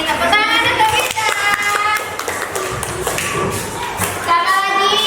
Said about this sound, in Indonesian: Tepuk tangan untuk Winda